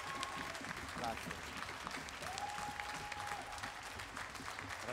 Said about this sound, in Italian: Sì, applauso ad Andrea!